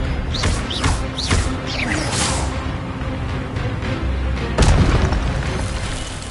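A spell is cast in the video game Hogwarts Legacy, with booming blasts and whooshing sweeps in quick succession, then a loud burst near the end over a dense, busy game soundscape.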